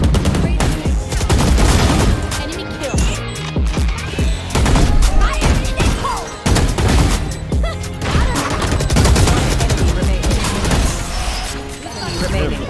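Rapid gunfire bursts from the video game Valorant, loud and dense throughout with repeated volleys and impacts, mixed with in-game sound effects.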